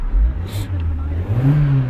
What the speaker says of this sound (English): Now the engine does sound very sweet